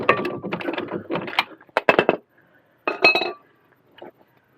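Bolts being worked out of a van's shock absorber mount with a socket, caliper already removed, give close, bright metallic clinks and rattles in quick irregular bursts, then sparse single ticks.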